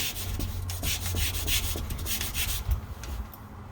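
Fingers rub hard back and forth against a ceiling, making a close, loud, rhythmic scraping friction with no talking.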